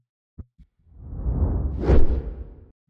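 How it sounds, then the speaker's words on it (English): A quick whoosh sound effect for a content-creation channel intro, preceded by two short ticks, then a smooth rising-and-falling swoosh lasting about two seconds that peaks near its end, clean and alone. "So let's use this little fast whoosh sound here."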